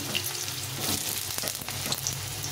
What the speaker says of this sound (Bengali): প্রথমে আমি আলুটাকে সুন্দরভাবে লাল লাল করে একটু ভেজে নেব